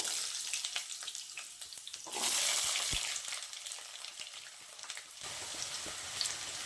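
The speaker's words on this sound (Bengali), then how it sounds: "তেলটা গরম হয়ে গেছে, প্রথমে আমি আলুগুলো ভেজে নেব" Diced potatoes fry in hot oil in a pan for a vegetarian cabbage curry, a steady crackling sizzle with a louder hiss surge midway, close and without talk.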